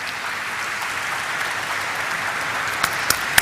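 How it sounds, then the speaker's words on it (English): Steady applause from an audience at the Flair Writing Industries Limited listing ceremony, welcoming the company chairman on stage, a dense, even wash of clapping with a few sharper claps standing out near the end. "please put your hands together for Mr. Khubilal Ji, Chairman and Whole-Time Director, Flair Writing Industries Limited"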